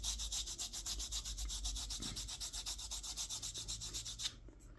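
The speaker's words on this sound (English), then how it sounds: "Just rub in finely ground coffee." Finely ground coffee is rubbed into a carved wooden spoon with quick, rhythmic scrubbing strokes, soft and close. It stops near the end.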